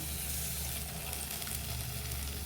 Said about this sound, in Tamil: இந்த ஸ்டேஜில் நம்ம கழுவி க்ளீன் பண்ணி வச்சுருக்க ப்ரானையும் அது கூட சேர்த்துக்கலாம்.